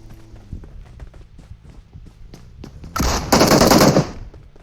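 Rapid bursts of automatic machine-gun fire in a video game crackle over faint rhythmic tapping, swelling into a loud sustained volley near the end, during a tournament grand final.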